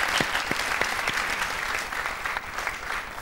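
Studio audience applause on a 2005 Turkish television dance show, a dense continuous clatter of many hands with a few sharper individual claps standing out.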